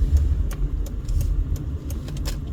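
A Zoox self-driving car comes toward a moving car on a Las Vegas road near the Mandalay Bay garage. A close, continuous low road rumble and tire hum fill the short stretch, with faint passing traffic and no talk.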